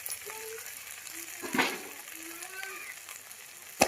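Veg manchurian mixture fries with garam masala and coriander powder, giving a soft steady sizzle with a stirring scrape in the middle and a clatter at the end, close and moderately quiet.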